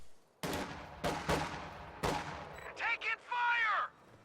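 Rifle volley fire in the strategy game Company of Heroes: several sharp gunshot bursts spaced through the first half, followed by warbling whistle-like battle effects, with speech-like game audio in the mix.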